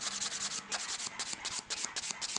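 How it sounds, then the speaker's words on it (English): Acrylic nails being shaped with a hand nail file, giving close, rhythmic rasping strokes in quick back-and-forth bursts with short pauses between passes. "So I'm just simply going to file."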